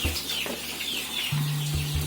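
Chickens in a coop clucking and murmuring close by, with a low, steady throaty hum running through the short stretch and no talking.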